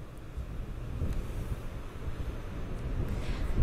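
Wind blows outdoors in a dry wash, a steady low rumbling buffet on the microphone that rises slightly in gusts, with no voices.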